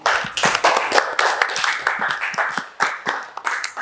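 A classroom group claps at a church-themed group presentation, a brisk, fairly close round of individual hand claps in a steady uneven patter without talk.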